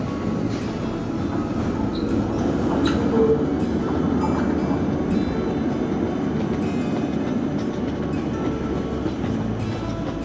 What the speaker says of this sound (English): I love these trams here,